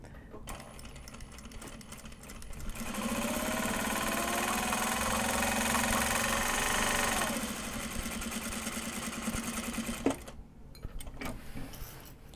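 A sewing machine stitches Japanese fabric card holders, a fast steady mechanical whir starting after a couple of seconds and running for about five seconds, then easing into lighter clicks and handling noises, close and with no talking.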